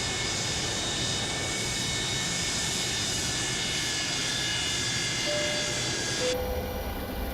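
Steady roar of Boeing 727 engines in Microsoft Flight Simulator during a mountain approach in Vietnam, continuous broadband hum with faint tonal whines, shifting abruptly near the end as a higher tone cuts in.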